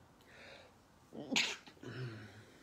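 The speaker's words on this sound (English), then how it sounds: "Sorry, I think I'm going to sneeze." A single human sneeze bursts out sharply indoors after a short intake of breath, followed by a quieter exhale and murmur, close and fairly loud against a quiet room.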